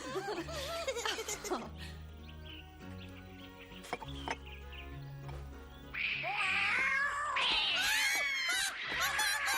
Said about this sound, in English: stop that, you bad cat!